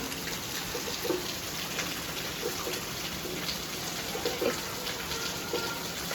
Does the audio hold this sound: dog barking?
no